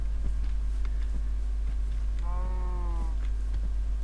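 A cow in the video game Minecraft lets out a single drawn-out moo partway through, heard over a constant low electrical hum and scattered faint clicks.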